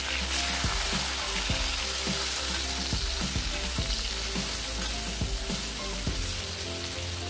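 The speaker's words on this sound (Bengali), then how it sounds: "এরপর কেটে রাখা ঢ্যাঁড়সগুলো কড়াইয়ে দিয়ে দেব।" Chopped okra fries in a wok with salt and turmeric, a loud continuous sizzle broken by regular scraping clicks as the pieces are stirred.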